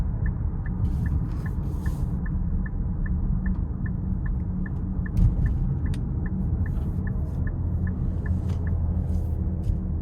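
A 2026 Nissan Murano Platinum AWD driving in sport mode, heard from inside as a steady, loud engine and road rumble with a faint, evenly spaced ticking throughout and an occasional light click.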